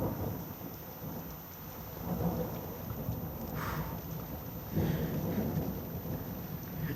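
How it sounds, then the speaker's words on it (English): Heavy thunder rumbles and rolls over steady rain during a lightning storm after a power outage, with deep booms swelling around the middle and again near the end. "never heard thunder like that before."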